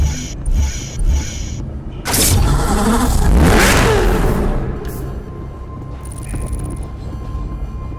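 A Mercedes-AMG SLS Black Series in Need for Speed Hot Pursuit revs hard in a loud rising engine sweep, with mechanical clicks and clunks before it and a fading whine and hum after.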